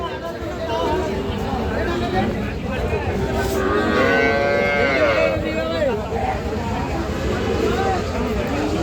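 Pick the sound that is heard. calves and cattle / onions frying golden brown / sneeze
calves and cattle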